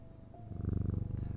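A cat purrs as it is petted in the Strange Antiquities video game, a low rhythmic rumble that swells and pulses steadily, close and alone.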